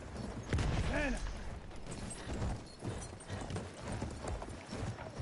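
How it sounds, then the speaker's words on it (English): Galloping horse hooves in a video game thud in a quick, uneven rhythm close by, with a short whinny near the start and fainter clatter and distant shots mixed in. "The horse chased me."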